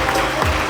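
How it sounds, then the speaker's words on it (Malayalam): A brief moment of audience applause for an exam topper at an award ceremony, dense continuous clapping filling the room. "അടുത്ത വർഷം എനിക്കും ഈ കയ്യടി കിട്ടേണ്ടതാണെന്നുള്ള ഉത്സാഹത്തോടെ വേണം കയ്യടിക്കാൻ"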